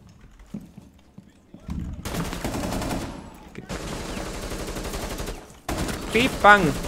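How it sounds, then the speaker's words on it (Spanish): Rapid gunfire from the tactical shooter game Rainbow Six Siege, dense automatic bursts broken by short pauses, loud and close, with a voice talking over parts of it. "Pero ha seguido disparando mientras yo le disparaba"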